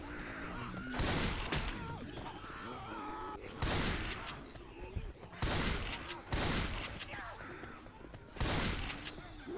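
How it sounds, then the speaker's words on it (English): A pipe bomb goes off in Left 4 Dead 2 amid a run of loud, booming blasts and crashes repeating every second or two over constant chaotic game noise and groans. "Oh yeah, use that pipe bomb."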